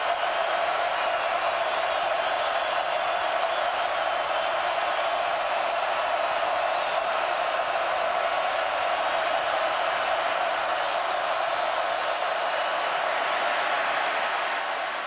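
Steady, dense roar of a stadium crowd at an Alabama vs Florida college football game, a continuous broadband wash of massed voices held at a constant loud level throughout with no breaks.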